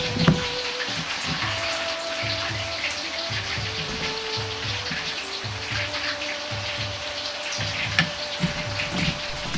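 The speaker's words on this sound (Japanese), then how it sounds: "水溶き片栗粉を大さじ3入れ軽く炒めます" Bamboo shoots being stir-fried with a potato starch slurry crackle and sputter steadily in a pan, a busy continuous spattering with faint repeated low clinks beneath, no voices.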